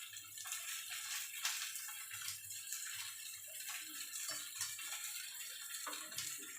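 Boiled vegetables go into a bowl of cold water, making faint, steady sloshing and splashing with small drips and clinks repeating irregularly close by.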